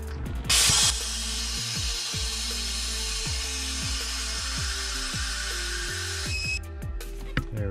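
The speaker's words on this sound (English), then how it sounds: "So let's go ahead and draw another vacuum on this." An Airlift 550000 venturi vacuum pump draws a vacuum on a car cooling system through the fill adapter, giving a steady loud hiss with a rapid mechanical ratcheting clatter underneath, starting abruptly and cutting off near the end.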